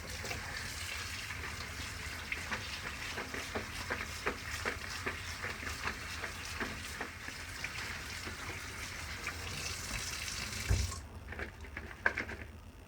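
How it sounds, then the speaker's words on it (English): Running tap water splashes steadily over pickled northern pike being rinsed in a sink, a faint continuous trickle and patter that stops near the end, followed by a couple of soft knocks. "And then you're going to rinse it off really good."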